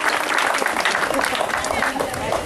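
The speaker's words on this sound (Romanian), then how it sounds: "să-i aplaudăm" Crowd clapping at the opening ceremony of a school sports cup in Pădureni, a steady dense patter throughout, with a voice likely speaking over it.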